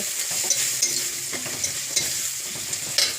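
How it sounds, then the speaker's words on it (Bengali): Crushed garlic sizzling and frying in a pan while being stirred, with soft scraping strokes over a steady close sizzle. "একটু নেড়ে নেব।"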